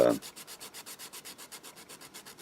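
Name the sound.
sanding with sandpaper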